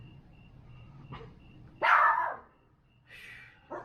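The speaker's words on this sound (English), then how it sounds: "I guess there's someone's dog that's barking off in the distance" Someone's dog barks a few times at a distance outdoors on a quiet night, with one louder bark standing out among fainter yips and a steady faint hum in the background.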